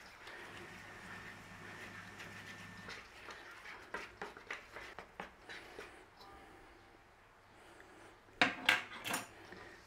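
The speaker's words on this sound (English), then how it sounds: "Turn around your fork," A fork mixes shortcrust pie pastry dough in a bowl, producing a series of light, rhythmic scraping and tapping strokes against the bowl, followed near the end by a few louder clinks.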